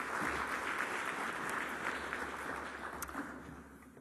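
An audience applauds steadily to welcome a speaker at a healthcare quality presentation, a dense, even wash of clapping that fills the room and holds for several seconds without talk.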